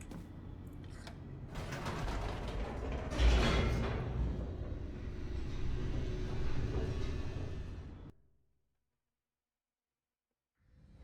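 A mechanical rumble and creaking hum of the elevator descending in the video game The Stanley Parable, steady and fairly loud for about eight seconds, with a heavier clunk partway through, then cutting to silence.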